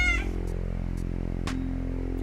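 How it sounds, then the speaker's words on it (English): A cat meows close by during a Ghost Recon: Wildlands game session. One short, clear meow is heard at the start over a steady game hum, with a soft click later. "Hello, cat."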